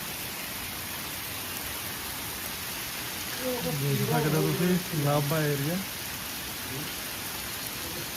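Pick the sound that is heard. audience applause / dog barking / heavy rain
heavy rain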